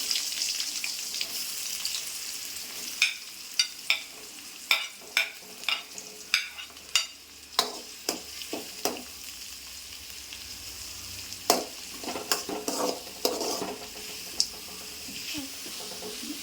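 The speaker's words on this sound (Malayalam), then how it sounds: "സവാള അതിലേക്ക് ഇട്ട് വഴറ്റുക" Sliced onions sautéing in hot oil with crushed cumin and poppy seed for a Thiruvananthapuram-style chicken curry, a steady frying hiss punctuated by a series of crisp spatula scrapes and taps in an irregular rhythm, close and clear.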